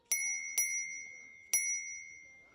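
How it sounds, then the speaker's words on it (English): An Engwe manual bicycle bell on an e-bike rings three times, each sharp metallic ding hanging and ringing out between strikes, the first two close together and the third after a longer pause, clear and alone. "these little Engwe manual bells that kind of throw the sound forward a little bit"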